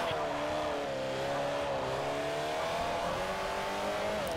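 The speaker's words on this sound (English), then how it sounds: "There's wheel spin from the rear end." A VTEC-equipped car accelerates hard with rear wheel spin, its engine note climbing steadily in pitch and holding a loud, continuous drone for several seconds, with the revving tone wavering slightly throughout.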